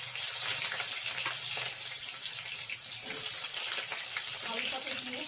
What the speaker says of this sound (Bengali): আলুটাকে দিয়ে ভালো করে ভেজে নেব